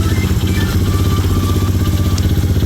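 A small MMX 110 Rookie mini motocross bike engine runs loud and close, a fast rattling idle pulsing steadily with mechanical clatter, no talking.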